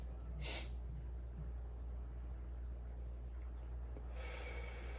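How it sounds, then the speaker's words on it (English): Two sharp nasal inhales for Wim Hof method breathing, one near the start and one near the end, close and distinct over a low steady hum, with quiet stillness between. "when you breathe in, you can do a sharp inhale"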